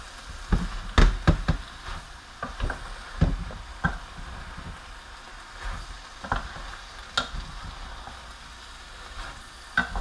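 Ground beef and onions sizzle softly in a stock pot over medium heat, with scattered sharp knocks and scrapes of a utensil stirring against the pot.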